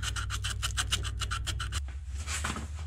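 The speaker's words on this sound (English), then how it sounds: "you just back and forth until they clean up nice" An emery board rubs back and forth over engine ignition points on an old gas-powered air compressor from the 1950s, giving about a dozen quick, rhythmic rasping strokes close by, followed by slower scraping.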